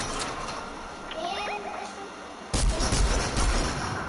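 Gunfire in a first-person shooter video game, several sharp shots and a heavier blast with rumbling echo, close and loud, with a faint voice in the background.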